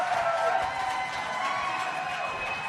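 An indoor climbing gym crowd at a USA Climbing national cup men's final roars steadily for a hometown climber, a dense, continuous wash of cheering and shouting with no clear breaks.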